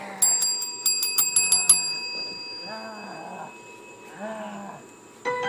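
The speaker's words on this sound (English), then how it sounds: "Somebody ring the bell!" A ring-side bell at an Extreme Wrestling Alliance event clangs in a quick series of sharp, bright strikes that fade, followed by a lowing cow-like call and another clang at the end.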